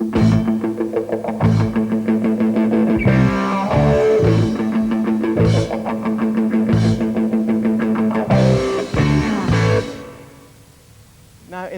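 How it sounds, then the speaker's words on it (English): Heavy metal band passage: bass and drums hit sharp accented stabs together while the guitar chugs steady eighth notes, loud and rhythmic, with a brief quieter tail at the end. "the bass and the drums accent stabs while the guitar plays consonant 8s, like this."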